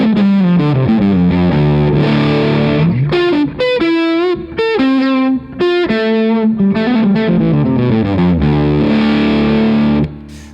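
An electric guitar plays through a Wolf Devices fuzz pedal on a low fuzz setting, giving a vintage Fuzz Face style tone. A loud, sustained run of melodic phrases rings out alone with a thick, saturated texture and a few brief pauses.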